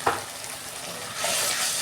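Spice masala with salt, turmeric and chilli powder being fried and stirred in a pan for a fish recipe, a steady soft sizzle with scraping stir sounds, close and alone.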